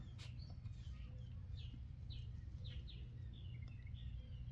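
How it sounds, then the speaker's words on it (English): Birds singing outside a ventilated garage workshop, faint and distant, as scattered short chirps over a constant low rumble. "That's why you hear the birds singing and the cars and all that stuff"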